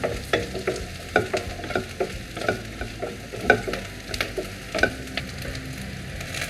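Capsicum stir-fried for gobi manchurian in a hot pan: steady frying sizzle with rhythmic scraping and tossing strokes of a spatula, close up and without voices.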